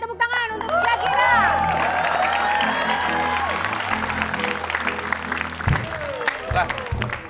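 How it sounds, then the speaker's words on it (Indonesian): Studio audience at an Indonesian TV comedy show breaks into loud, sustained clapping and cheering that fills the room, with shouts and laughter mixed in and voices talking over it as the applause slowly tapers off. "Tepuk tangan untuk Syakira"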